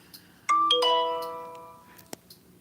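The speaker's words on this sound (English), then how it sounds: "Can you guys hear that little ringing noise? Or ding-dong noise?" A single bright ding-dong chime rings out clearly and fades slowly over a quiet room, followed by a faint click.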